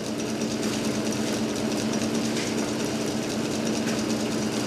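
Small engine fitted with a homemade manual clutch running steadily, a loud, continuous buzzing drone with a fast mechanical rattle and no change in level throughout.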